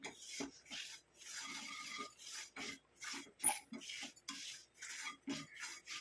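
Amla powder being stirred as it roasts in a pan, giving a dry rasping scrape in repeated strokes, close and fairly steady with short pauses between movements.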